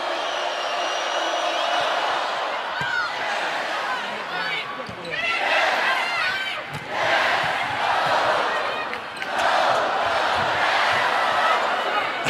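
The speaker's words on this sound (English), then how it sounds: "Yes, yes on the Florida contacts. No, no on the Stanford contacts." Volleyball crowd at a Florida Gators versus Stanford women's match chanting in loud surging waves that swell and dip every few seconds, dense and echoing in a packed arena, with a commentator's voice mixed in.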